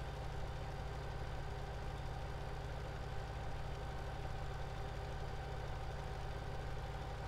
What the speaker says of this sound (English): this is definitely a nice Case tractor.